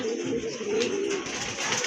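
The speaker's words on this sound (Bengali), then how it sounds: "আরেক জোড়া কবুতর, এটা হচ্ছে কোকা কবুতর" Pigeons kept for sale coo in soft, low, repeated rolling calls, close by and fairly steady, with faint background noise and no speech.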